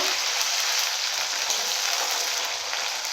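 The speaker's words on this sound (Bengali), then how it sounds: "আমি এখানে ভালো করে আমি ভেজে নেব" Ginger and garlic fry in hot white oil for capsicum chilli chicken, giving a steady, even sizzle that hisses close by without a break, with no talk over it.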